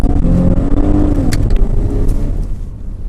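A 2010 Chevrolet Camaro held in first gear in manual mode accelerates hard, its engine note loud and close and rising in pitch before easing off.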